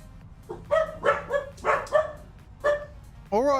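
Several dogs bark in a series of sharp, close barks and yips, about seven bursts in an uneven rhythm, followed by a short higher whine at the end.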